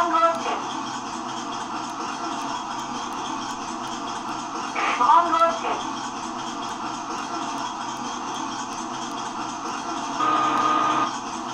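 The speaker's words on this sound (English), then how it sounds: "That's the sound of the turret" Sound module of a 1/6 scale Armortek RC Tiger 1 tank playing its turret traverse effect: a steady mechanical whirring drone that swells briefly midway and ends with a louder, higher whine, with no speech over it.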